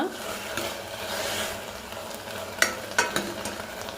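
Field beans and other sambar ingredients are stirred and dry-roasted in a pan, with a steady close sizzling rustle and a few sharper scrapes of the spoon toward the end.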